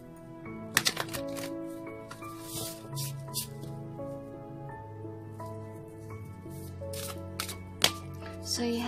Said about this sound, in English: One more shuffle, their request.